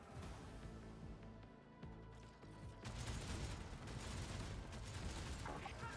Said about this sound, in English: The Vox transmits the sounds of gunfire and death screams.